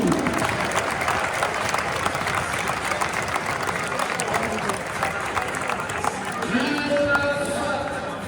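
A large stadium crowd applauds steadily for a football legend at FC Lorient's centenary match, a dense, continuous wash of clapping that never breaks, with voices running underneath.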